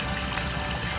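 Well water pours into a backyard pool, a steady, dense rushing splash heard close and continuous, with no voices.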